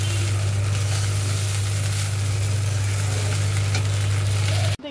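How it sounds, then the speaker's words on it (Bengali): Food frying steadily in a pan, a loud continuous sizzle with no pauses that cuts off abruptly at the end. "এরপর এটাকে ভালো মতো ভেজে নিই।"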